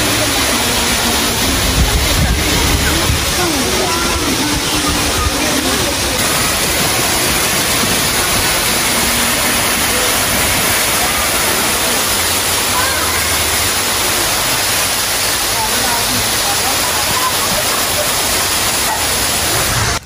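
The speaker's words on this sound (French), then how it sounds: "cette cascade qui sort de la montagne" A waterfall pours out of a mountainside in Shees Park, a nature reserve park in Khor Fakkan, giving a constant, loud, close rushing roar that fills the whole stretch without pause.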